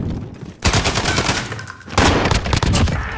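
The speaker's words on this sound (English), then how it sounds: "it definitely shoots a little faster, gets the job way quicker than the" A modified AK rifle in a video game fires full auto in two loud, rapid bursts, the first about a second and a half long, then a short break before a second sustained burst.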